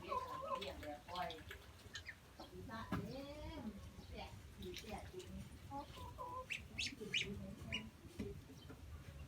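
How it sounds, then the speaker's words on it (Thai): Chickens on a farm cluck and call on and off at moderate distance, mixed with people talking and general outdoor background noise. "อันนี้ฟาร์มไก่เนาะ ฟาร์มไก่ครับเป็ด"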